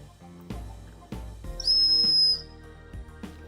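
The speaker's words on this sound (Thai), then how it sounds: "นกหวีดนี่ก็ใช้งานได้จริงเป่าได้ เดี๋ยวเป่าให้ดู" A small survival whistle built into a multitool gives one loud, shrill, sustained blast lasting under a second, sounding close over a steady low musical backing.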